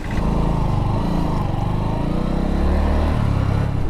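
Bajaj Platina H Gear five-speed motorcycle engine running steadily, a loud, close, even single-cylinder drone with faint changes in pitch and no talking.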